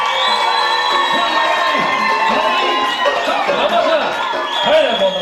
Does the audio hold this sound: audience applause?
yes